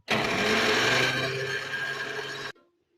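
An electric grinder whirs steadily for about two and a half seconds while grinding kabab masala spices, loud and close, then cuts off abruptly into quiet.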